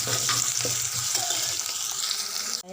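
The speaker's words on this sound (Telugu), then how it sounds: "అల్లం వెల్లిపాయ పేస్టు పచ్చి వాసన పొయ్యేదాకా మగ్గనివ్వాలి" Ginger-garlic paste and onions sauté in a pan with a steady, close sizzle and occasional stirring scrapes, continuous throughout and cut off abruptly at the end.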